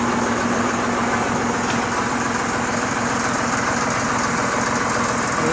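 A Tafe 45 DI tractor fitted with a rotavator idles in Bangladesh. Its engine gives a steady, loud, unbroken rumble with a faint knocking vibration throughout, and no voices.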